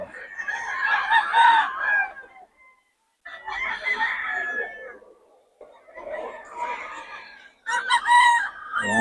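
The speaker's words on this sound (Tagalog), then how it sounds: "Ang manok ni Boss Ray yan" Chickens and roosters at a poultry sale in Bocaue crow and cluck loudly and close by, in several long overlapping calls separated by brief pauses, with no talking.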